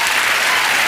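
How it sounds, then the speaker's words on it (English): A studio audience applauds during a television interview, a dense, steady burst of clapping that lasts just under a second. "They were applauding John and we didn't hear it"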